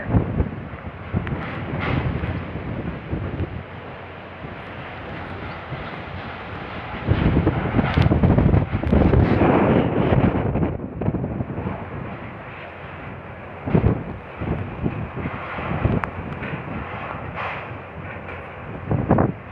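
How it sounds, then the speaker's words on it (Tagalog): Strong typhoon wind from Typhoon Rolly roars in gusts, surging loud then easing, with buffeting rumble against the microphone and no voices; light rain accompanies the wind, in a Philippine town centre, November 2020. "bugso-bugso yung lakas ng hangin na may kasamang mahinang ah, mga pagulan"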